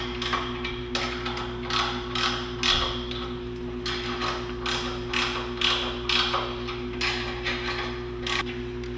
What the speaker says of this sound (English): Then you tighten these 6 bolts